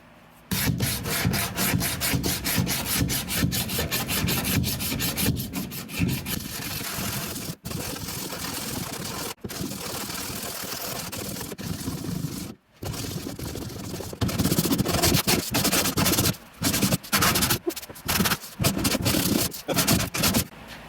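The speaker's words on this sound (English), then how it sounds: "Daddy is sanding the back of this car." Steady hand sanding on the back of a 1950 Dodge Cabriolet convertible body, a continuous coarse rasping scrape with up-and-down strokes, close and fairly loud, with a few brief pauses.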